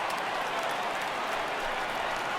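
Stadium crowd of about 33,000 in the baseball game MLB The Show 18 roars steadily as fans rise to their feet, a broad sustained wash of cheering and clapping that ends in a brief sharp peak.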